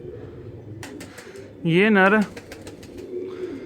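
A male pigeon of a long-tailed fancy breed coos once, a loud, close warbling call lasting about half a second, with someone talking before and after it.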